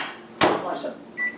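A microwave oven door is handled while heating dumplings, a sharp close-up clunk followed by a brief rattle and a short high beep, with speech around it.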